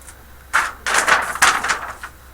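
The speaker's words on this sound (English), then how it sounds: "That sound you just heard was a poster falling off my wall." A paper poster slides down a wall indoors and lands, giving a few quick rustling, scraping bursts over about two seconds, close and fairly loud, with no talking.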